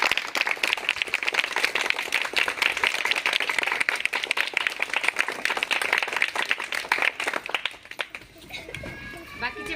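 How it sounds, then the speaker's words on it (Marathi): A classroom of children clap their hands loudly together during a number game, dense rapid clapping that carries on for about eight seconds before tapering off, with voices heard near the end. "टाळ्यांचा एकच आवाज जोरात आला पाहिजे"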